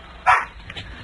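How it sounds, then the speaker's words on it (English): A dog barks once loudly during a radio call-in phone conversation, heard over a thin, band-limited telephone line, followed by fainter noises. "That's my dog."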